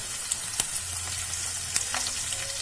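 Curry leaves and Kashmiri red chili sizzle in hot oil for a tadka that will go into a dhaba-style kadhi pakoda, a loud, steady, close crackle with scattered sharp pops.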